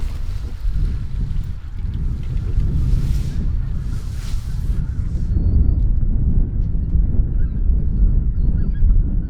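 Geese honk during a duck hunt in Louisiana, faint calls carried over steady wind rumbling in the open field.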